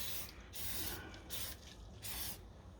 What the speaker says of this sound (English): you can use a bit of WD-40